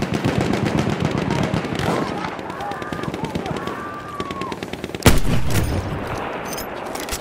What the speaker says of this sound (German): Feindliches MG!